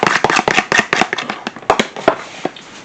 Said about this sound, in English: Whisk up that egg a little bit.